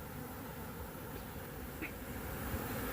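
Honey bees buzz around an open hive, a dense continuous drone of many insects that stays even and close throughout, with no voices.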